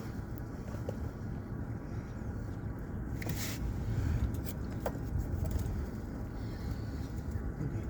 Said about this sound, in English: there's a whole lot of wind